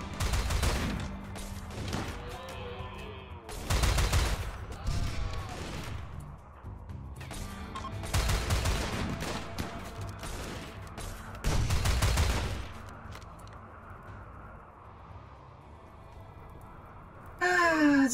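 Bursts of gunfire in the video game RimWorld, several loud clusters of rapid shots separated by quieter gaps, with a person's sighs and gasps between volleys.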